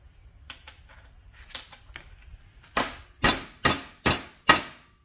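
Five sharp, evenly spaced hammer blows drive a seal into a Mitsubishi 3000GT 6-speed transmission, preceded by lighter taps and small metallic clinks in a quiet garage.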